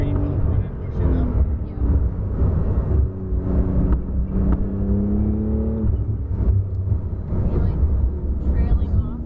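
A supercar on a race track hums and whirs as the throttle builds, engine pitch rising steadily beneath an instructor's continuous coaching from inside the car.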